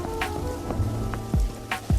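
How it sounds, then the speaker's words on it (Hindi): Out-of-season rain falling in an animated story, a steady wash of raindrops pattering on surfaces with a few louder low thumps, alone with no voices. "धीरे धीरे बारिश बढ़ जाती है और चारों तरफ पानी ही पानी हो गया था"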